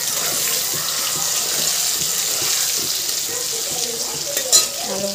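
Potato pieces frying in a pan with salt and turmeric, a loud, steady close-up sizzle with a bright hiss and occasional stirring knocks, one sharper clatter near the end, no talking.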